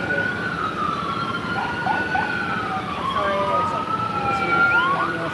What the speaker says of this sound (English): There's two ambulances.